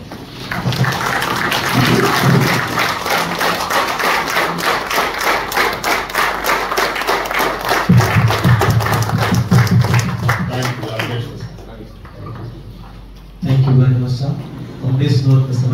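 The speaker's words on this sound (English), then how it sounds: "I want all of us to give the Vice Chancellor a resounding applause in a standing ovation." A faculty meeting audience gives a standing ovation for a university Vice Chancellor, with dense hand clapping and some thumps that thin out partway through, then mix with talk near the end.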